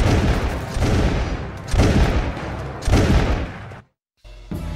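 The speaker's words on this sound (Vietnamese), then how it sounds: "các tàu chiến của Pháp đang nã pháo vào thành" French warships shell a citadel: heavy, loud cannon blasts and gunfire roll in one after another about every second, each with a rumbling tail, then a brief silence before another burst. No voices are heard.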